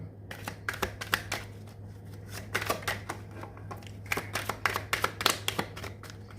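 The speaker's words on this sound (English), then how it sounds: "I'm going to shuffle one more time" Tarot cards are shuffled in quick, crisp bursts of riffling flutters, close and distinct, repeating in two main runs with brief pauses between.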